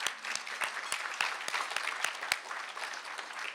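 Audience applause at an MIT gathering, a steady wash of clapping hands with sharp individual claps standing out, sustained throughout at moderate level with no talk.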